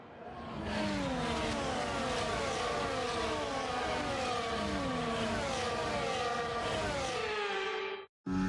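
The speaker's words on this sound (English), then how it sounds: "The formation lap gets underway and the excitement here is building as we near ever closer to the start of the race." Several F1 race cars from a video game set in Australia rev and whine together on a formation lap, engines rising and falling in layered overlapping tones, loud and continuous, cutting out briefly near the end.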